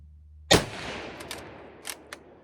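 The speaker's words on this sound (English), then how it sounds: "5 shots." A Spanish Mauser M93 rifle in 7mm Mauser fired outdoors at a target about 85 meters away: one loud, sharp shot with a long rolling echo, followed by fainter metallic clacks from the action.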